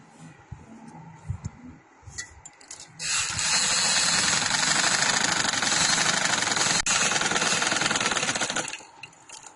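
A sewing machine runs continuously for several seconds, stitching a cotton girl's frock, a loud dense steady whir that starts after a few soft handling sounds and stops abruptly.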